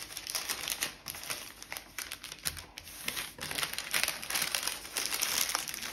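Sheets of puff pastry dough being folded by hand, with dense crinkly rustling and crackling from a sheet of paper or film pressed against the dough, close and steady throughout.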